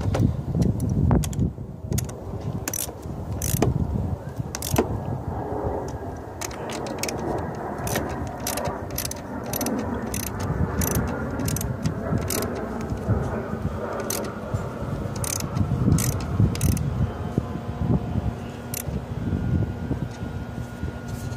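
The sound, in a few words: ratchet with socket tightening car battery hold-down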